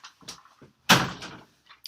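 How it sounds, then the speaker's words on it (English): A door closed indoors at home, a single solid thud near the middle preceded by faint shuffling and small knocks, followed by a fading rustle. "Can you close that door for me and then come right back?"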